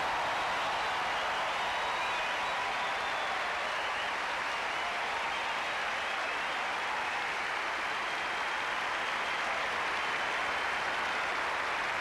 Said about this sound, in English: no wonder they go on applauding, because this was a truly wonderful rally